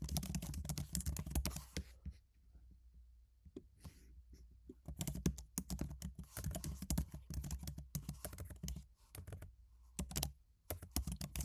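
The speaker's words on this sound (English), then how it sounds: "having some typing troubles here" Close, busy typing on a computer keyboard, rapid clattering keystrokes in irregular bursts with a short pause partway through, alone without talk.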